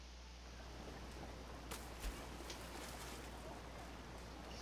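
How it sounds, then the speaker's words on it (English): Rain falls steadily in Zelda: Breath of the Wild as an even, hissing wash with a few faint sharper taps, heard alone without talk. "Oh good, it's raining."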